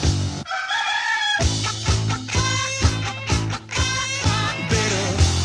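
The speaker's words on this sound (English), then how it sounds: "He's clucking a lot, but he's not saying anything." Chicken clucking and rooster-style crowing woven into a 1970s novelty horror song, sounding repeatedly over a steady, loud musical backing with a regular beat.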